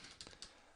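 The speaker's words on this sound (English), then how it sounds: "I'm going to type in" Several quick, soft keystrokes on a computer keyboard in a quiet room.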